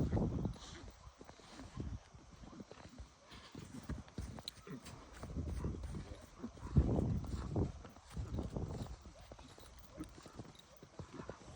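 Hooves clop unevenly on the ground as a young horse, a colt, moves about nearby, with occasional snorts and faint voices in the background.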